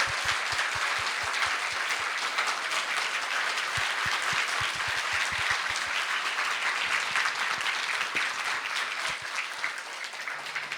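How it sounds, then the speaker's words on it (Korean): A church congregation applauds at a Sunday anniversary thanksgiving service, sustained, full clapping from a large crowd that stays loud and steady, with some sharper individual claps standing out. "박수 부탁드립니다"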